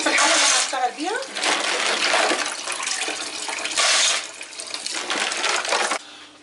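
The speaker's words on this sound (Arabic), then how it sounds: "الجردوفي بجيبه وبغسله بالمية وبصفيه بايدي كده" Grain rinsed by hand in water in a cooking pot before fish is cooked, with sloshing and splashing in bursts, a watery trickle and a few clinks, all close and fairly loud, while a person talks at times.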